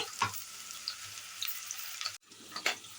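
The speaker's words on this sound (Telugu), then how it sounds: "అందులో ఒక 2-3 పావులంతా నూనె వేసుకొని వేడైన తర్వాత ఉల్లిపాయలు వేసుకోవాలి" Onions frying in hot oil inside a pressure cooker, a steady broadband sizzle with a few louder crackles and stirring scrapes, close and continuous with a brief drop near the end.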